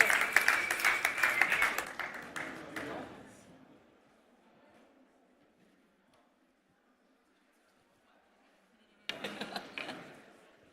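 A crowd at a festival campus stage claps enthusiastically, fading out after a few seconds, followed by quiet, then a second short burst of applause near the end.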